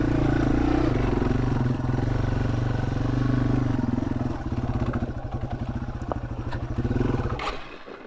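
Yamaha TW200 motorcycle fitted with a fat tire kit climbing a hill, its engine chugging loud and close in a steady low throb that breaks into rhythmic pulsing as it labors, with clatter and scraping from the trail.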